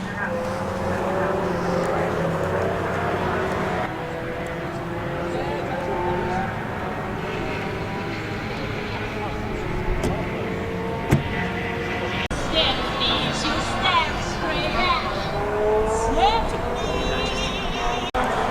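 Ferrari race cars lapping the Oulton Park circuit during a historic racing meeting, engines droning and rising in pitch as they pass at a distance, with a steady loud outdoor roar and a person talking over it.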